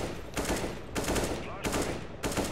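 Rapid automatic gunfire in an online shooter game comes in loud repeated bursts, several sharp volleys separated by brief gaps, with a faint voice under the shots.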